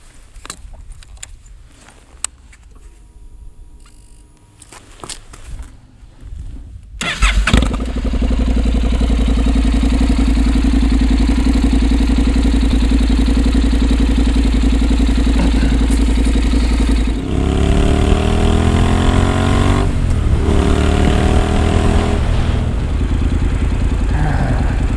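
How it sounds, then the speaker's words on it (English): A Honda CTX700 motorcycle with a Radiant Cycles Shorty GP exhaust rumbles to life after a few quiet seconds, then idles steadily and loudly, with a brief throttle blip partway through. "Gonna take the CTX700 and we'll listen to the exhaust for a second before we take off."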